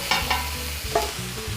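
Vegetables sautéing in oil in a pan, soft continuous sizzle with a few quick stirring scrapes and taps of a utensil, close and alone with no voices.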